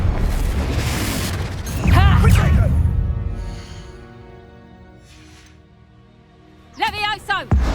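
A Confringo blasting spell goes off in Hogwarts Legacy, a loud broadband boom that rumbles and fades over several seconds, with in-game character voices breaking in during and after the blast.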